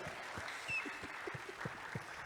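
Scattered audience clapping at a talk with Rev. Prof. G.E. Erhabor, a fairly faint patter of separate claps in a room that fades in and out rather than building.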